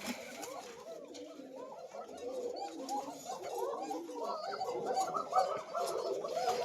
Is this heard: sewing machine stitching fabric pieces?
no